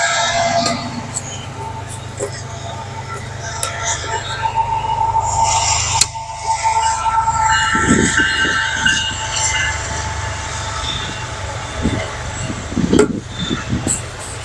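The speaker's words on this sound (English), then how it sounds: "There's a train." A train rumbles past nearby, its steady loud roar and rail clatter persisting throughout, with a brief horn-like tone and a couple of sharp knocks, while a person talks intermittently over it.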